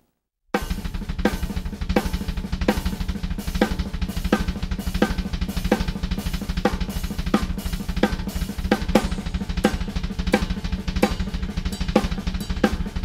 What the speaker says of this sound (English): I'm going to put triplets on the kick drums around this accent pattern